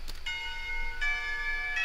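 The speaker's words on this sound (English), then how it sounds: "The clock tower bells ring, signaling the end of the period" Clock tower bells in the visual novel Katawa Shoujo, ringing as a school bell: two or three sustained metallic chime strikes with long ringing overtones, fairly loud and close, with no talk.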